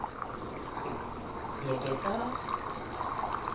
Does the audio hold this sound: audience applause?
no